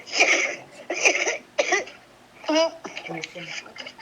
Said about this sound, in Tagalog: malakas ang ubo